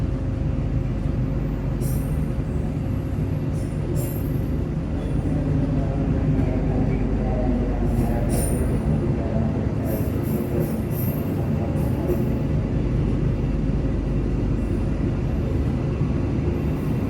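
The Pandalungan passenger train in Indonesia rolls along after leaving Pasuruan, a continuous loud low rumble of wheels on track with repeated metallic clicks and brief high squeals, heard from inside the carriage with no talk.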